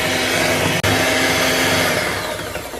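Electric hand mixer blending strawberry ice cream ingredients, a steady loud motor whir running continuously with one brief cut near the start, then easing slightly toward the end.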